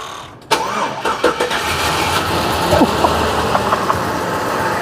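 A 1956 Chevy engine cranks, catches and starts, then runs at a steady idle with some clicks and rattles, close by.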